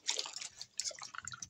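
Fidget toys are washed with water and soap in a quick burst of splashy dripping and sloshing, faint and close, with no talking.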